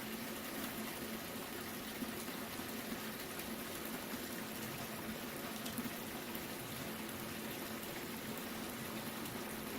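Water washes through a Tyke Strike concentrator in a continuous, even rushing and trickling flow, moderately close with no breaks, steady from start to finish.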